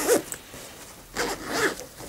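The zipper of a pocket on a Rothco Vintage Compact military backpack is pulled close to the microphone in a few quick rasping strokes, one short zip followed by a pause and then two longer ones.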